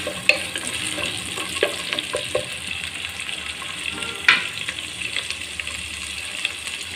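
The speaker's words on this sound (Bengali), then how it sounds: "পেঁয়াজ কুচি দিয়ে এটা একটু হালকা ভেজে নেব" Chopped onion lightly frying in a pan, a steady soft sizzle with occasional clicks and scrapes of stirring, close and alone with no talk.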